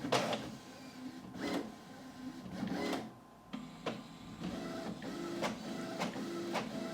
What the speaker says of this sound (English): this is the sort of noise volume you're going to expect whilst it's printing